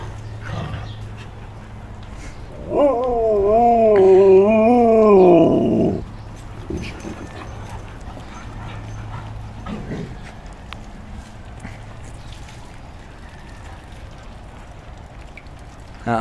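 Dogs, among them a husky, meet and sniff another dog; one drawn-out, wavering whine or growl rises for about three seconds, then only quiet background remains.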